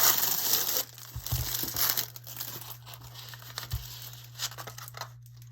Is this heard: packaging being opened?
yes